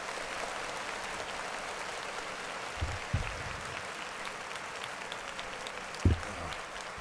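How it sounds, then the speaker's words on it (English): Steady applause from a small group during a casual podcast-style talk show, a continuous even wash of clapping with a few louder thumps near the middle and end. "We should clap it up for that."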